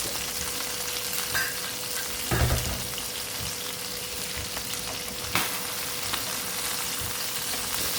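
Chicken sizzles steadily in an oil-free skillet, a continuous close frying hiss, with two brief clattering knocks as the pieces are turned over.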